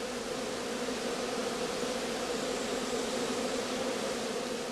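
A swarm of bees pouring out of a heather skep at an outstand apiary during the cast swarming period, a dense continuous buzzing hum held steady and loud throughout with no talk.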